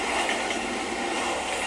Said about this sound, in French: c'est ça les amis, hein, le métro